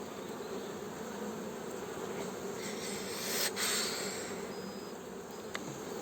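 Honey bees droning around an opened beehive during an inspection, a dense continuous buzz of many insects close by, steady throughout with one bee passing nearer, no talk.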